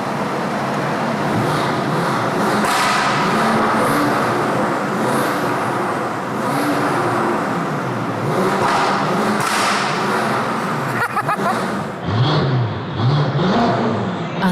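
A BMW X6 engine revs and accelerates hard, roaring loudly with rising and falling pitch through gear changes, echoing in a tunnel in Abu Dhabi.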